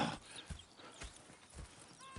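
Horses in a video game give off a quick run of hoof clip-clops, roughly four soft thuds, followed by a short whinny at the end, all faint and close.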